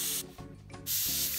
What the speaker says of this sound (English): We're spraying at about 10 to 15 psi, nice light air pressure.